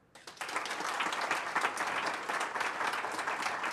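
Studio audience at a radio talk show breaking into sustained applause, a dense steady wash of many hands clapping that swells quickly and holds at full strength throughout, with no talk over it.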